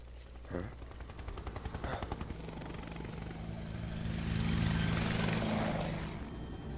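A helicopter in the video game Final Fantasy VII Remake gives a rapid rotor chop that shifts into a rising, roaring engine whine. The sound is moderately loud and continuous, with game effects layered underneath.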